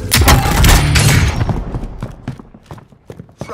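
Heavy video game gunfire on the Rebirth map, a loud sustained burst of rapid shots up front that thins into scattered, sharper single cracks and distant reports.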